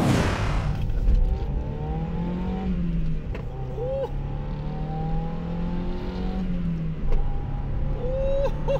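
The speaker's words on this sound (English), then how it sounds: "Time for me to get my hands on this Mazda Miata and do a little drive." A 1994 Mazda Miata M Edition being driven, its engine heard from inside the car revving up and easing off through a few gear changes, loud and close with no talking.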